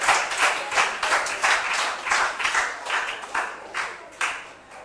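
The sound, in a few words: clapping for a substitute player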